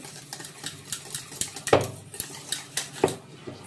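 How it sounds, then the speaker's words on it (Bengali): Mango, yogurt and sugar being mashed and mixed in a bowl for steamed mango yogurt, a rhythmic run of close spoon scrapes and clinks against the bowl, with two louder knocks, no talking. "আম, দই, চিনি তো গলেই গেছে, ধরো এর মধ্যে একদম ভালো করে এবার মিশিয়ে নিতে হবে।"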